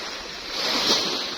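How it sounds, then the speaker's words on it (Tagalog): Gentle sea waves wash onto a calm beach with sand and rocky edges, a soft steady surf hiss that swells slightly midway, with light wind noise on the microphone and no talking. "Malumana yung dagat na yun."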